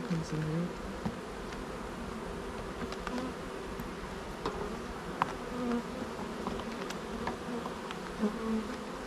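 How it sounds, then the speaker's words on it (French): Steady, close insect buzzing from many honeybees on hive frames, a dense droning hum with occasional louder passes of individual bees near the ear. "il y a des abeilles, il y a un peu de couvain au milieu"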